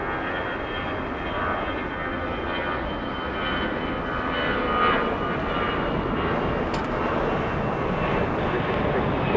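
A Volaris airliner passes at LAX, its jet engine roar steady and moderately loud, building a little in the second half, with little talk over it.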